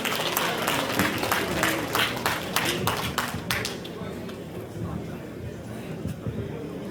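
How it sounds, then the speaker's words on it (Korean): An audience at a book launch event claps to welcome a guest, loud crowded applause with sharp individual claps for about three and a half seconds, then fading into murmuring and scattered room noise. "여러분 박수로 환영해 주십시오"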